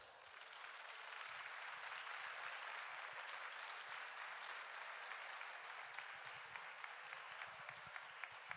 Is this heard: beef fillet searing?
no